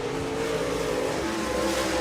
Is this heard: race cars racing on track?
yes